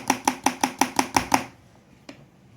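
Eggless chocolate cake batter is whisked in a bowl: eight quick, evenly spaced taps in a row, then quiet, and one last lone tap.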